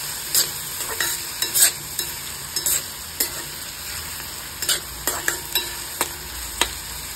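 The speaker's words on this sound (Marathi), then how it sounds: "कांदा छान परतून घेऊ." Onion frying in a pan for a garlic-greens vegetable dish, a soft steady sizzle broken by repeated scraping stirs of a spatula, close and fairly quiet.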